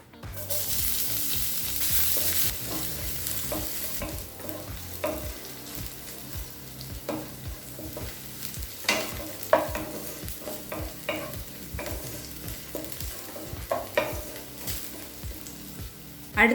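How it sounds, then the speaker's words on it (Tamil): Chopped onion frying in oil in a kadai alongside cumin, urad dal and curry leaves, a steady close sizzle with repeated scraping stirs throughout. "பொடியாக நறுக்குன்னு ஒரு வெங்காயத்தை சேர்த்துக்கலாம்"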